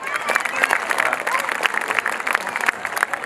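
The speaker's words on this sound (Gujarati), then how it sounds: "ગુજરાતી ભાષામાં તાળીઓ પાડો." An audience claps at a girls' school annual function with a Gujarati garba theme, steady crowd applause with some voices mixed in, moderately loud throughout.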